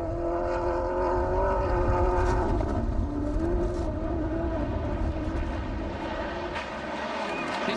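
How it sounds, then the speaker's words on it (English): A Hyundai World Rally Car at Rally Greece 2001, its engine short of turbo boost, drones loud and close with a strained, wavering tone that rises and falls across the stretch, with no one speaking over it. "Engine struggling for breath with low turbo boost, Alistair McRae in the Hyundai"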